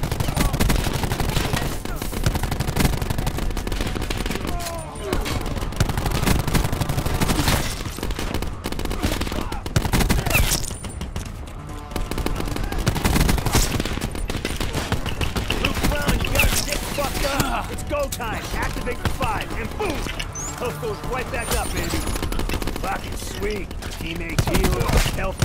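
Sustained rapid gunfire fills a Call of Duty: Black Ops 4 firefight on the Firebreak/Crash skirmish maps, with dense automatic bursts and overlapping shots continuing loud and unbroken throughout.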